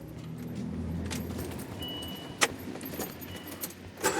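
Car keys jangle in a few sharp metallic bursts near a car parked in snow, faint and close against a low background hum, with no talk.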